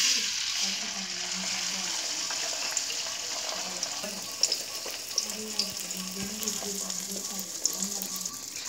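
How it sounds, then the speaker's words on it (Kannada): Egg seasoned with turmeric spits and sizzles in hot oil over a high gas flame for egg noodles, a steady close frying hiss with a few sharper pops and no talking. "ಈಗ ಗ್ಯಾಸ್ ನಿಮ್ಮ ಹೈ ಫ್ಲೇಮ್ ಇಟ್ಟು ಈ ಮೊಟ್ಟೆಯನ್ನು ಹಾಕೋಣ"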